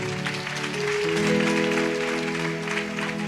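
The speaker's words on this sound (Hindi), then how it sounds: "उसके नाम की तारीफ करी, ताली बजाएं।" A congregation in a Sunday church service applauds in a steady, moderately loud patter, with sustained musical tones sounding underneath.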